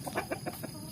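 Free-range village chickens cluck in a quick run of five or six short, close notes, with no voices present.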